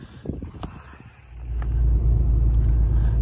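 A vehicle with a broken front shock mount drives on Poison Springs Road in the Maze District of Canyonlands, Utah, its low rumble swelling after a quieter start into a loud, steady drone.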